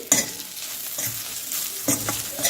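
Green chillies sizzling in a pan on low heat while a spoon stirs them, a few scraping strokes over continuous frying hiss, close and fairly loud with no voices.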